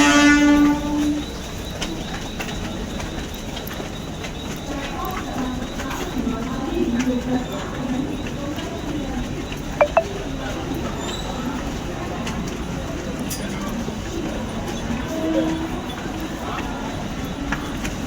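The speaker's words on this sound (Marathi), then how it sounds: "कल्याणला जाणारी ही लोकल आहे." A local train bound for Kalyan stands at a station platform. A loud horn blast opens, followed by a continuous rumbling drone with faint background voices and occasional birds.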